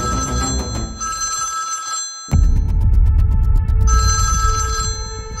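A telephone rings in a Kannada television serial scene: loud, repeated electronic ringtone bursts with a steady pulsing pattern, over dramatic background music that swells partway through.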